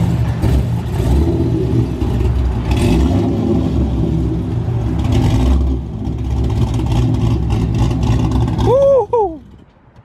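A fifth-generation Chevrolet Camaro with a cam swap, rated around 500 horsepower and 480 torque, accelerates on the road with a loud, continuous engine rumble heard from inside the car, and a brief voiced whoop cuts in near the end.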